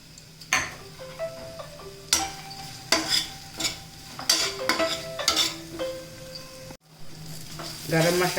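Prawns sizzle steadily in a pan with garam masala, stirred in repeated scraping bursts by a utensil, with occasional clinks of metal against the pan; no one talks.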